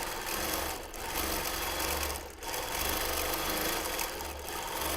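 Sewing machine free motion quilting, a close, fast mechanical needle chatter running in bursts with three short pauses, alone without talk.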